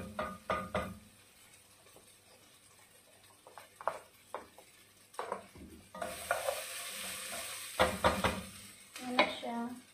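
Food being stirred in a frying pan, with irregular clinks, knocks and scrapes of a utensil against the pan over a low sizzle that swells louder partway through.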